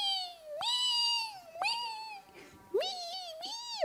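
A human voice imitates hungry little kittens mewing: three drawn-out, high, rising-and-falling meows with short pauses between, close and clear.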